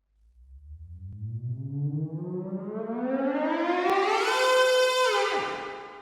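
Synth riser in Massive sweeping pitch upward by four octaves with the filter opening fully, a smooth, rising, siren-like glide that swells louder before cutting off near the end.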